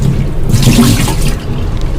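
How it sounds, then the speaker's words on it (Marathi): Running water pours steadily from a tap over dried Bombay duck fish being washed, with a brief heavier rush in the middle, close and continuous, with no talking. "हे स्वच्छ धुवून नळाखाली 2-3 पाण्याने धुवून"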